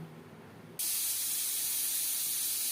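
A pressure cooker with chickpeas on a gas stove suddenly bursts into a loud, steady hiss of escaping steam after a quieter moment, the jet continuing unbroken and close.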